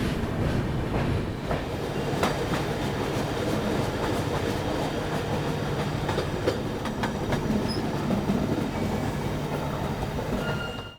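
The 15547 Raxaul–LTT Mumbai Antyodaya Express rolls slowly through a loop line near Sonpur Junction, a loud steady rumble of wheels on rails with rhythmic clicks from joints and points, continuous throughout with no voices.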